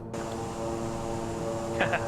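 King Air 350 turboprop engines in Microsoft Flight Simulator 2020 going into beta, a steady droning hum with strong tonal whine, close and continuous, with brief voice sounds over it near the end.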